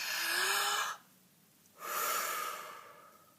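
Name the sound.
deep breath inhaled through the mouth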